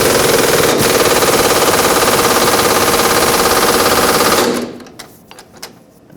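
A loud, rapid mechanical rattle hammers on continuously for about four seconds while a large 24mm bolt is tightened on a 2004-2009 Ford F-150 5.4L during an exhaust manifold job, then cuts off, leaving a few faint clanks.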